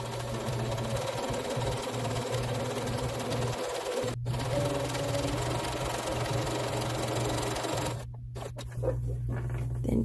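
Sewing machine steadily stitching a quarter-inch quilt seam, a continuous close mechanical whir with a brief pause partway and a stop near the end.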